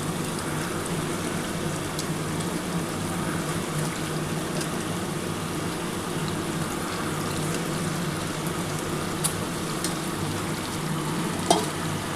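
Chicken stirred and fried with a red spice paste, a continuous dense sizzle and crackle with faint utensil scrapes and occasional clicks, steady and close throughout with no talking.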